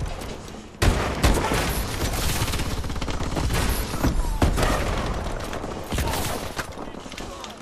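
Gunfire in Call of Duty: Advanced Warfare, with dense, loud bursts of shots and booms that run almost continuously over the game's mix.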